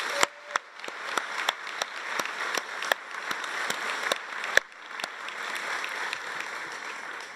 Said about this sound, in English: Please join me in a round of applause for all the members of our platform party